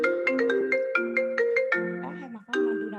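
A mobile phone rings with a melodic ringtone, a repeating pattern of bright synthetic notes in quick succession, loud and close, with no speech over it.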